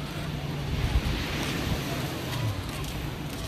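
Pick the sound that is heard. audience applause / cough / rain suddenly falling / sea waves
sea waves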